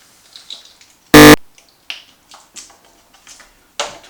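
An RC car's 6s electronic speed control powering on as its battery is connected, giving one sharp, loud spark snap followed by faint clicks and small mechanical ticks close by, with no speech.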